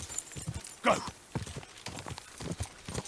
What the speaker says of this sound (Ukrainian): А це вже ми скачемо знов